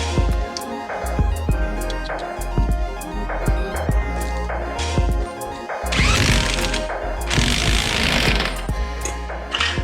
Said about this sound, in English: It's the big red drill.